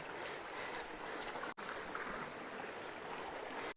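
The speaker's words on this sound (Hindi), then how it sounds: "ऊपर झरने का पानी यहाँ से होकर आगे की ओर जा रहा है।" A forest river carries waterfall water downstream, a steady, broadband rush of flowing water with soft splashing texture, fairly quiet and continuous with one brief dropout midway.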